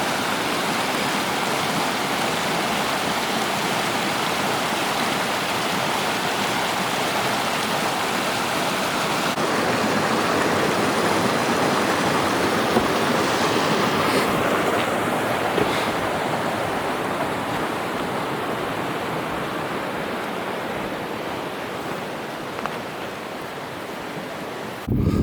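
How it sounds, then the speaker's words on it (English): The Pecos River rushes steadily below Beatty's Flats, a constant broad roar of flowing water that runs unbroken and fairly loud for the whole stretch, with no voices. "River down there is the Pecos."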